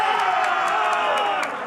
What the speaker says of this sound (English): All the teams are cheering as they have a winner